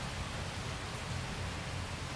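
Rain falls steadily outside an open door, a soft continuous hiss of even, faint wash with no talking over it.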